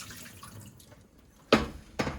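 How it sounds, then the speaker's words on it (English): Soaking water drained from a pan of cut russet potatoes in a home kitchen, a low wet rush that surges in two loud splashing pours near the end after a quieter dripping start. "We're gonna take this water, obviously, drain it out."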